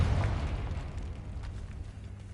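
A Confringo blasting spell goes off in Hogwarts Legacy, a loud, sustained booming rumble with crackling debris that fades slowly over a couple of seconds, with no talking.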